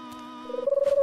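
Animated doves in a cartoon give a short, soft coo that rises into a pulsing, warbling call toward the end, with no speech.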